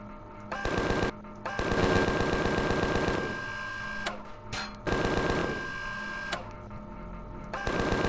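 Rapid machine gun fire in the space survival game Empyrion Galactic Survival, loud sustained bursts with short pauses between them, no talking.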